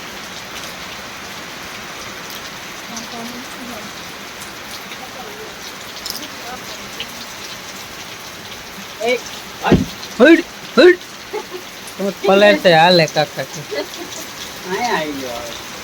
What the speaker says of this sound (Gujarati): જો વરસાદ ચાલુ થઈ ગયો